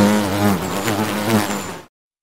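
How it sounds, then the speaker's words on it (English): Dragonfly buzzing, a close, steady harmonic wing drone lasting under two seconds before cutting off abruptly into silence. "Dragonfly."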